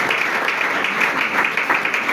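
A church congregation applauds in a steady, close burst of clapping that lasts the whole moment, with faint voices mixed in beneath.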